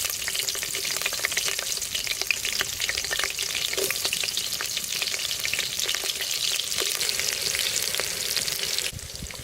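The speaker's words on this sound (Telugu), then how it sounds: "పచ్చిమిరపకాయలు వేసుకుంటానా." Green chillies fry in hot oil with cumin seeds for a goat head curry, giving a steady, close, dense sizzle with faint crackles throughout and no talking.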